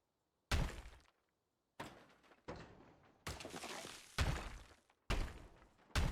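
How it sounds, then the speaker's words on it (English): A floor demolished in the Deconstruction Simulator video game: six or seven separate heavy thuds and crumbling crashes, each followed by a short rumbling decay, loud and close, with no talk. "I'm going to take the floor out now."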